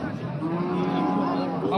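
Cattle lowing at a livestock bazaar in Bakhmal, Jizzakh, Uzbekistan, among them pregnant cows, with sustained harmonic moos over constant crowd murmur and nearby voices talking.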